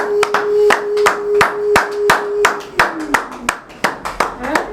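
Rhythmic hand clapping at a gathering: a steady beat of sharp, close claps repeating about twice a second, with a held tone beneath that slides lower near the end while the clapping turns more uneven.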